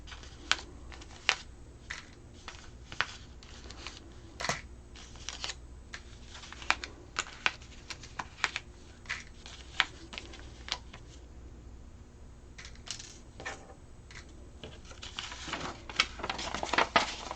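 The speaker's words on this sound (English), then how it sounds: "I'm going to start taking our pattern off our cut pieces" Paper pattern pieces are peeled and lifted off cut fabric, giving scattered crisp rustles and crinkles at close range, with sharper bursts of handling toward the end.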